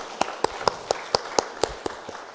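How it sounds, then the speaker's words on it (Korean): Hands clapping at a church family Sunday joint worship service and peace award ceremony, a steady, evenly spaced series of about ten crisp claps from a small group. "여러분, 이 아름다운 장면을 보시면서 박수로 격려해 주시면 감사하겠습니다"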